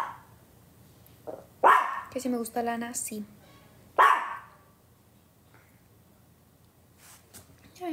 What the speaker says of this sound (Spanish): Ya, mi amor, no ladres.